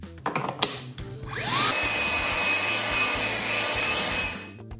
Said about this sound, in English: Milwaukee M18 Wet Dry Vacuum is the ultimate job site cleanup